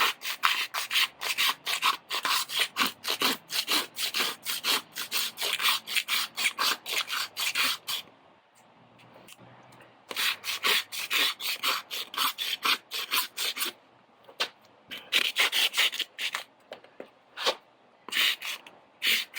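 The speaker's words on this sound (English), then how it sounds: "Let me see if I can just rasp it down." A rasp files down a horse's hoof affected by white line disease in repeated rough, scraping strokes, loud and close, with a brief pause midway before the steady rasping resumes.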